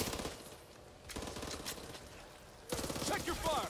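Zombie-shooter game gunfire in Back 4 Blood, bursts of shots recurring across the moment, fairly loud, mixed with game sounds and music, with people talking over it.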